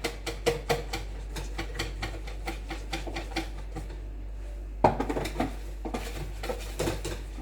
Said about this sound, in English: my baking powder is coming in my flour. So I'm going to give it thorough mixing